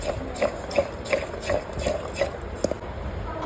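Mango pieces with salt and turmeric are stirred and mixed, giving a steady series of soft rhythmic knocks and scrapes, close and clear.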